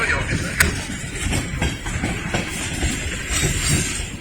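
A freight train hauling many tanker cars rolls past near Lynchburg with a loud steady rumble and rhythmic clacking of wheels over rail joints, while a person speaks over it.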